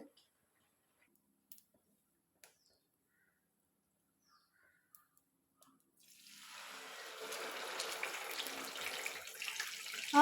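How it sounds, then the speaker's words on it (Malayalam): Water from boiled rice being drained off in a home kitchen, a steady pouring splash that starts about two-thirds of the way through after near silence and continues to the end. "നമ്മുടെ ചോറ് തിളച്ച് ഇനി അതൊന്ന് ഊറ്റട്ടെ"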